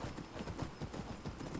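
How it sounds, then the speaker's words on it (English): Horse hooves clip-clop steadily in Skyrim, an even walking rhythm of muffled hoof falls, fairly close and alone without talk. "Let's headcanon that that's Stenvar's horse now."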